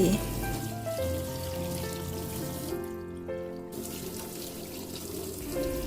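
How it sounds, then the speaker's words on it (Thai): Water runs steadily from the tap and drains freely through a freshly unclogged kitchen sink, a continuous close splashing flow with a brief quieter dip midway, filling the whole stretch. "หมดปัญหาท่อตันอีกต่อไปแล้วจ้า น้ำไหลสบายมากเลย"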